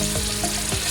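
Tomatoes go into a pan of frying onions for a chicken biryani masala, setting off a loud, steady, close-up sizzle and crackle with no talking.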